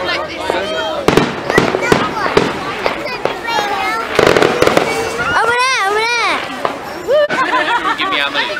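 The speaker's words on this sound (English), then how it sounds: "They've got a lot of fireworks, so they're doing it." Fireworks exploding at a firework display, with loud sharp bangs and crackling bursts scattered throughout while a crowd chatters and people shout and talk close by.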